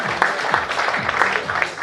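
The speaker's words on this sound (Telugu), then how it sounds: "ఓకే అయితే చప్పట్లు కొట్టండి" An audience at a lucky draw event claps in a dense, steady burst of applause, close and loud, with a few faint voices underneath.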